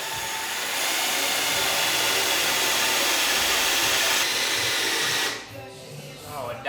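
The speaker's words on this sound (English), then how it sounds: "I'm gonna drill this hole out" A power drill whirs loudly and continuously for about five seconds, close by, drilling a hole on a drift car, then winds down and stops, followed by faint handling noise.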